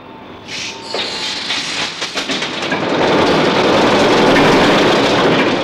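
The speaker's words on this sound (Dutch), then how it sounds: "Na het aanbrengen van verschillende leidingen aan de motor kan worden proefgedraaid." A large TM410 diesel engine starts up on a test run in a test hall, a few rattling knocks giving way to a loud, swelling roar that settles into a heavy, sustained rumble.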